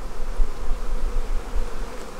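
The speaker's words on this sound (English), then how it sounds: "A lot of bees down here though." Steady droning buzz of many honey bees close by, a continuous hum with slight swells in loudness.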